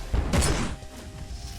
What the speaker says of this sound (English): Boom. Nice explosion.